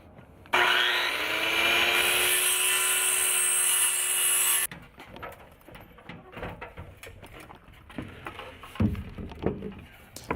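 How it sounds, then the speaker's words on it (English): Power saw cutting 1x6 and 1x8 wooden soffit boards to length for a cabin, a loud steady whine for about four seconds, then quieter handling, knocks and shuffling of the boards. "Cut the 1x6 and the 1x8 soffit boards to length"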